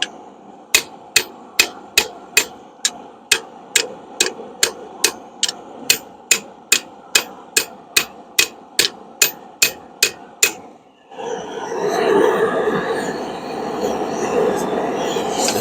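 Steady hammer blows ring out on hot steel while forging a spring fuller, about twenty evenly spaced sharp strikes over ten seconds, then a rushing, roaring noise takes over after a brief pause.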